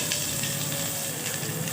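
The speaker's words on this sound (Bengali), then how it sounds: "তেজপাতা দেওয়ার পর আমি দিয়ে দিচ্ছি পেঁয়াজ কুচো।" Chopped onion hits hot oil with a bay leaf in the pan, giving a loud, close, continuous sizzle and hiss with small crackles throughout.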